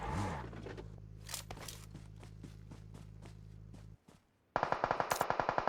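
Gunfire from a distant squad firefight in PUBG Mobile, with scattered faint shots over a steady engine-like hum, then a brief quiet before a rapid, evenly spaced burst of louder shots near the end.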